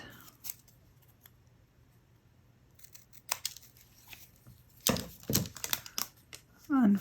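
Scissors cutting satin ribbon for bows: a few soft snips early on, then a quick cluster of sharp, close cutting clicks and crinkles in a quiet room.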